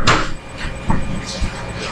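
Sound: door being opened

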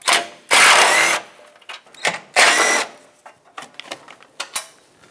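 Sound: power tool removing 10 mm fasteners from Mazda 6 bumper

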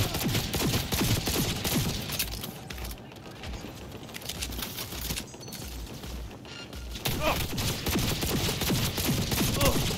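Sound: gunfire in Cyberpunk 2077 video game

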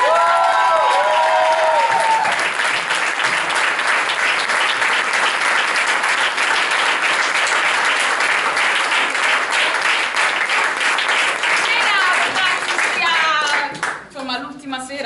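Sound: theatre audience applause

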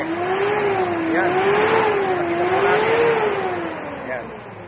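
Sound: car engine revving to about 4,000 rpm

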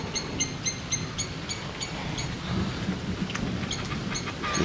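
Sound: thunder and rain during a night thunderstorm

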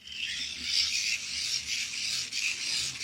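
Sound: hand-cranked generator being turned

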